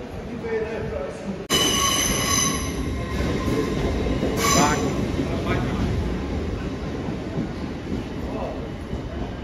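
A train bound for London King's Cross rumbles nearby, with a sudden loud onset, squealing wheels and a continuous metallic roar and clatter that carries on throughout.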